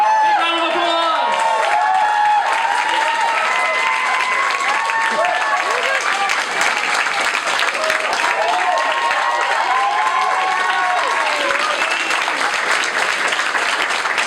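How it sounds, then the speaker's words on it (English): A large audience bursts into loud applause and cheering for Brian May, Queen's lead guitarist, at a university Q&A, with dense clapping, whoops and shouted voices rising and falling over a sustained, roaring crowd. "Big round of applause!"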